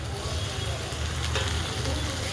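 Tomatoes go into a pan of onion and ginger-garlic paste frying in oil, giving a steady, dense sizzle close by with faint stirring scrapes throughout.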